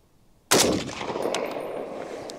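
A single loud, close rifle shot from a Springfield Armory M1A Standard with walnut stock, a sharp crack followed by a long, rolling outdoor echo that decays slowly.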